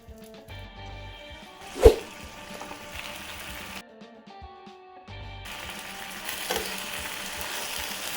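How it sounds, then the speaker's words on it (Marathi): A whole eggplant roasts directly over a high gas flame, giving a soft, steady hiss and crackle with one sharp click early on, a brief lull, then a fuller sizzle, close and moderately quiet. "आता वांग्याला गॅसवर हाय फ्लेम करून तोपर्यंत ठेवा"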